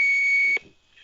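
A single long electronic beep from a tape recorder answering machine, steady and loud, cutting off abruptly after about half a second into quiet.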